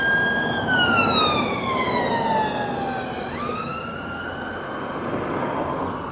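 A wailing emergency siren sweeps steadily downward in pitch over steady traffic noise on busy East Park Drive by Stanley Park, then jumps and continues, with no voices.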